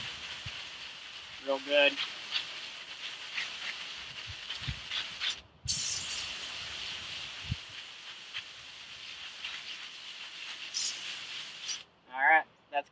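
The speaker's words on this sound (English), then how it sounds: "Still need to clean my paint screen. I'm going to spray that off" A water sprayer hisses as it rinses a paint screen, a continuous bright spray that cuts out briefly partway and again near the end, with occasional spoken words.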